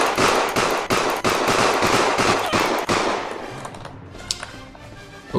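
Rapid gunfire from the OPSL video game, a quick run of sharp repeated shots at close range that stops after about three seconds and leaves quieter game noise behind.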